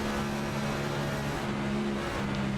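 A stock car engine at full throttle at Talladega Superspeedway in an iNASCAR racing game, a steady, droning high-revving hum with sustained tonal whine and no break.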